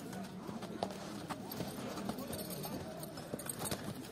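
A horse walks with a steady rhythm of hoof clip-clops close by, each footfall distinct over a soft outdoor background.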